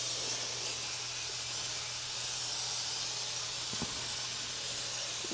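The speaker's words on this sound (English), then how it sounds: "Spray the top just a little bit." Steady hiss of oil being sprayed over chicken cooking in a pan, continuous and close throughout, with no talking.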